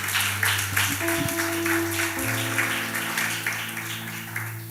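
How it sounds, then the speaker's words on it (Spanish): Church congregation at a sermon breaks into applause, a dense clapping wash over a steady sustained organ-like tone, continuing evenly at moderate volume. "Denle un fuerte aplauso a Jesús."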